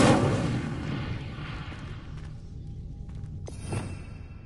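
An Incendio fire spell bursts in a wizarding video game: a loud, rushing blast strikes at once and slowly fades, followed by a brief crackling flare near the end.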